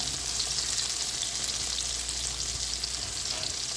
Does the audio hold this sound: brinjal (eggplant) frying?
yes